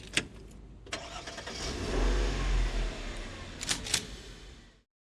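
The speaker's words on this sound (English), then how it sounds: "Then I got in my car and I drove." A car engine starts with a few sharp clicks and a crank, then revs up and drives off, the steady mid-pitched engine note swelling loud before a couple of door or gear clunks and an abrupt cutoff.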